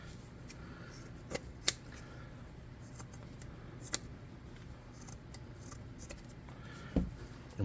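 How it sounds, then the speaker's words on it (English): Sharp scissors snipping through fabric, with irregular crisp cuts and small clicks of the blades over a soft background of rustling, close and quiet. "So I'm gonna get some fabric here and a pair of sharper scissors."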